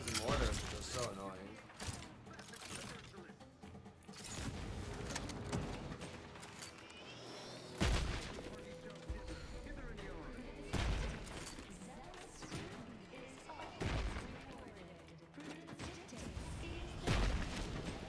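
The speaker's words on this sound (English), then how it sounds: "Those mortars are just so annoying." Mortar fire in the Outer Worlds 2 video game: repeated heavy booms and blasts at intervals amid clattering game effects and a busy, noisy soundscape.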